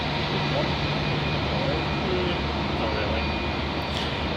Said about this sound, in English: So not too far away from departing is Virgin Australia flight 827 departing off to Sydney, the 737-800